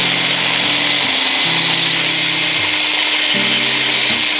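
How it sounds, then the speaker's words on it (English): A power drill with a 5/16 bit drills out a pressed-on metal rim on a Raleigh M50 comfort bike, a loud close whine that shifts pitch in steps as the load changes, running steadily throughout. "And I just drill it out."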